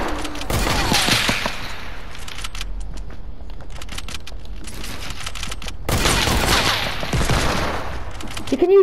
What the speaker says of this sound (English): Why am I using hunting rifle?